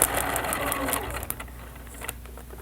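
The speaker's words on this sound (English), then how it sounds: "Okay, and it's just stitched around here." A home sewing machine stitching around layered paper, fabric and stabilizer, a quiet rapid mechanical chatter that runs steadily, then slows and becomes more intermittent.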